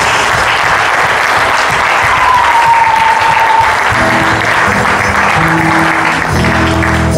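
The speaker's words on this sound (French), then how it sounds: "maintenant on acclame le Seigneur" Loud, sustained applause from a church congregation acclaiming the Lord, with cheering voices, and a few musical tones rising near the end.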